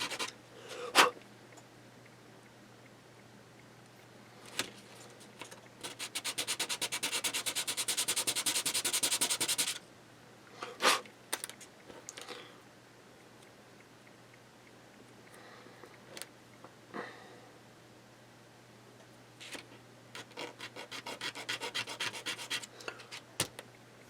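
Trimming plastic kitbash pieces for a model grain elevator: close, quiet scraping and rasping strokes, a sustained burst of rapid rubbing followed by scattered short scratches and clicks, with no talk.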